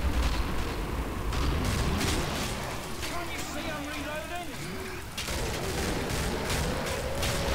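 Grenade blasts and gunfire from the video game Killing Floor on Hell on Earth difficulty, a dense, continuous roar of shots and explosions with brief sharper bursts, heavy throughout and dipping slightly midway.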